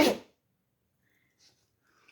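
A single sharp, close sneeze at the start, followed by near silence with a faint stir or two.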